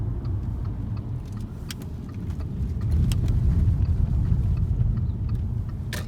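Car passing on a road near a caravan park and marina, a steady low rumble that swells gradually in the middle and fades slightly, fairly close, with no talk.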